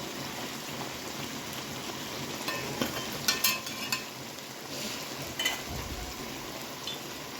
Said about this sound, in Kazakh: Мына жерде май қайнап жатқан қыздар, су емес.